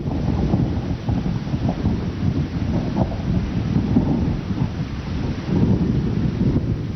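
Heavy monsoon rain pours steadily in Gujarat while deep thunder rumbles on and off, with gusty wind buffeting the microphone. Loud and dense for the whole stretch, with no voices.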